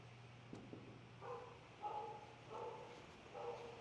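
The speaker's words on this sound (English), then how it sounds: "That dog's like, oh, food." A dog gives several short barks and yips at a distance, quiet and spaced roughly evenly over a low background hum.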